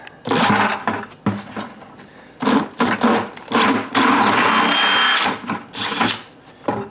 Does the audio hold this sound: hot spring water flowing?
no